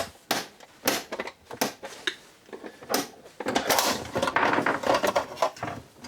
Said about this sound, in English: you basically just have to pry a bunch of plastic clips out